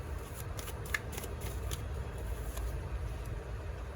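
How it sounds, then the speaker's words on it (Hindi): Tarot cards are shuffled in quick, papery riffles and flicks, close and fairly faint, over a steady low hum with no talking. "ये कार्ड्स अपने आप आ रहे हैं, अपने आप पॉपअप हो रहे हैं।"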